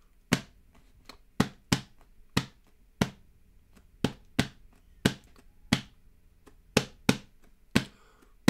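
An oats can drummed by hand taps out a rhythmic ostinato, a repeating groove of sharp, close, dry hits in small clusters over a quiet background, with no talk.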